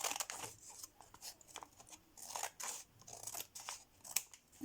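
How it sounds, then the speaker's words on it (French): An envelope of mail being opened, with close, faint bursts of paper tearing, crinkling and cutting snips coming in uneven rhythmic strokes. "je vais ouvrir le courrier"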